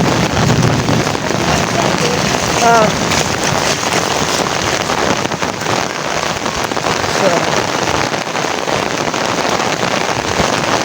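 Heavy rain pours down outdoors during a thunderstorm, a loud, dense and continuous patter close to the microphone, with a voice heard faintly in the background.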